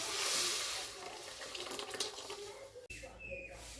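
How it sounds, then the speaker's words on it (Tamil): Lentil water pours and splashes into a hot pan of drumstick-leaf curry, hissing and sizzling steadily before a brief clatter. "கடைஞ்சி வச்சிருக்க பருப்பு தண்ணியை எடுத்து இதில் சேர்த்துடலாம்"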